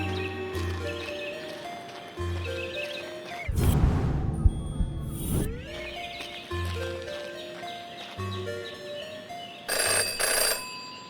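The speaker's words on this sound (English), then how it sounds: "Jenny had learned never to ignore a ringing phone" A phone rings repeatedly in the Jenny LeClue video game, several bursts of electronic trilling spread across the stretch and mixed with game music and other effects, including a loud whooshing swell partway through.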